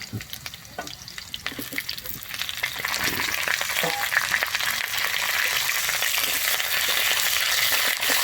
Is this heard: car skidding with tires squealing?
no